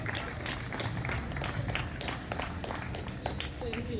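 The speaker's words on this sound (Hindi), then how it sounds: "सोनिया जब तक स्टेज को टच ना कर लें तालियां बजती रहनी चाहिए।" A studio audience applauds as a guest walks slowly to the stage, steady scattered clapping at a moderate distance that continues throughout.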